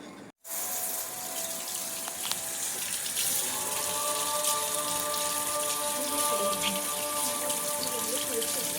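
Water runs steadily from a tap for washing hands in a home kitchen, a continuous close splashing rush that begins abruptly after a brief pause and continues throughout.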